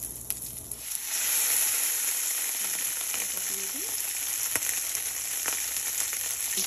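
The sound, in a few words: salmon frying in hot oil with black pepper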